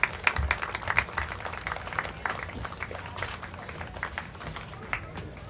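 An outdoor baseball-game crowd claps for graduating seniors, a scattered, irregular patter of hand claps of moderate loudness that continues steadily through the whole passage.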